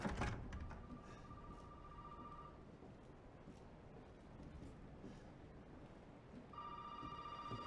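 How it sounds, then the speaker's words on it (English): A telephone rings in the horror game Resident Evil 7, two bursts of a trilling electronic ring separated by a long pause, heard faintly over a low dark ambient drone. "Oh, the phone's ringing."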